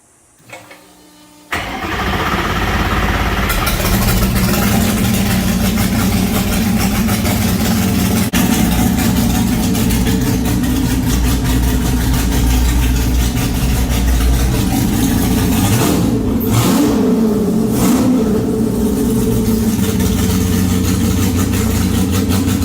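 A Superlite car with a new exhaust cranks and fires up, then settles into a loud, raw, continuous engine roar with occasional revs, close by and alone.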